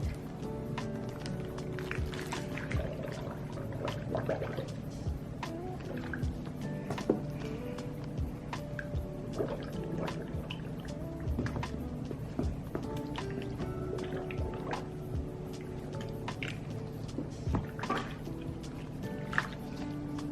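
Nike Air Force 1 sneakers are pushed under hot coffee dye water, giving quiet, scattered drips, small splashes and sloshing with occasional rubbery rustles over a soft steady background.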